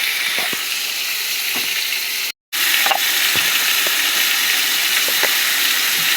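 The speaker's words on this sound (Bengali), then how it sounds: "আলুটা ভেজে নেব।" Potatoes fry in oil with turmeric and salt, giving a steady, close hissing sizzle with scattered small pops and a brief silent cut midway.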